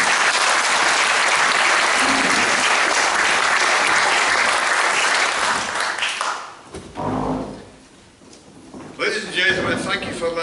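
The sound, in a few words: audience applause welcoming speaker Brian Goldie at Burns Supper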